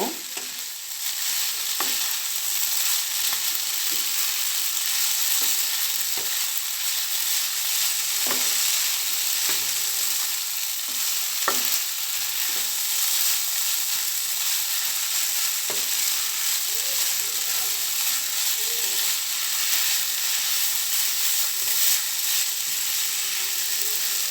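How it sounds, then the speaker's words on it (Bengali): Noodles stir-fried with vegetables and egg in a pan give a steady sizzle and frying hiss, with scattered clicks and scrapes of the spatula throughout, close and fairly loud, with no talking. "এখন আমি নুডলসটা নেড়ে চেড়ে সবজিগুলোর সাথে মিশিয়ে নিব, ডিমের সাথে মিশিয়ে নিব।"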